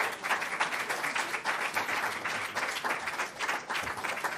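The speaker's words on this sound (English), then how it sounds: "Let's bring him on with a warm round of applause." A crowd at a religious gathering breaks into steady, dense applause welcoming a speaker to the stage, sustained and fairly close throughout with no talk over it.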